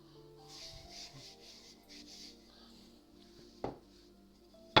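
A rolling pin rolling out floured dough for an onion tart, with soft rubbing, rumbling strokes and a couple of sharp knocks near the end, quiet and close, with a faint tonal hum in the background.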